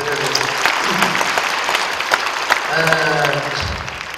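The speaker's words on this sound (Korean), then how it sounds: "유튜브 성도들 온라인으로 함께 하신 분들 박수 좀 하십시다." A Korean church congregation at a special prayer worship service breaks into strong, sustained applause, a full crowd clapping close and loud, while a voice speaks over the clapping part of the time.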